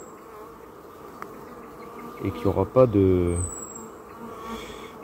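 Many bees hum steadily around a beehive in summer, a dense, continuous buzz in the background while a person speaks briefly over it in French.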